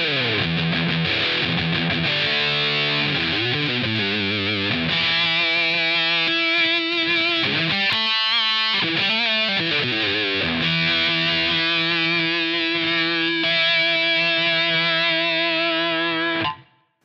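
Heavily distorted electric guitar chords, a Boss HM2-style Swedish chainsaw tone dialed in on a Line 6 Helix, ring out loud and saturated, sustaining for long stretches with buzzing, chainsaw-like grit before cutting off.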